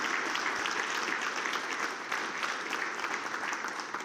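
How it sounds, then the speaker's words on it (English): An audience applauds steadily for a few seconds, a dense patter of many hands clapping at moderate distance, with no talking. "give you a round of applause"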